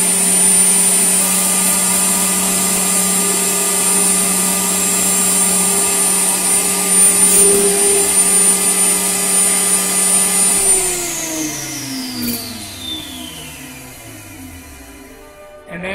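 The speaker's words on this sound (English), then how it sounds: "That's all we need the saw for, and I'll edit out some of that noise." Power saw cutting notches in a model aircraft wing for a Tom Morris Regular Millennium build, a loud steady high whine with a motor hum that winds down and fades near the end.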